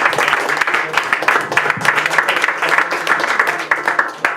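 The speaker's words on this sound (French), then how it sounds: "Bravo, on peut applaudir Nina." Applause from a studio audience for a contestant on a European-themed quiz show, with dense, steady clapping that keeps going for the whole stretch. A few faint voices can be heard beneath it.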